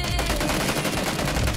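Dense, loud bursts of gunfire in the PUBG video game, a continuous close barrage filling the short moment.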